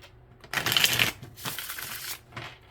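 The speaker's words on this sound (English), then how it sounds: "I'm going to give you an extra shuffle." Tarot cards being shuffled by hand, a close riffling burst that rises sharply, pauses briefly, then resumes in two shorter runs, with no talking.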